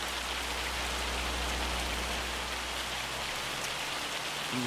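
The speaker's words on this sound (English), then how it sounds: "I want to go back to work, but I can't because it's raining" Steady rain pours in Farming Simulator 25, an even hiss of raindrops on surfaces with a low rumble underneath, continuous and unbroken with no talk.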